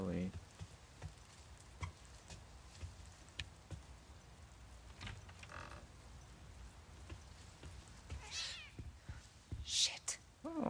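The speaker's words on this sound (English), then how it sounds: "Nice to see you too. little kitty" Cat meows in the horror game The Medium, a few short, fairly faint calls scattered over a quiet, murky room ambience, with someone talking between them.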